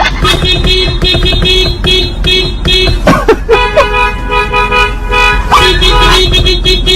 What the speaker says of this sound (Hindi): 2 कार की हॉर्न बजाने वाली भिड़ंत आपको दिखाते हैं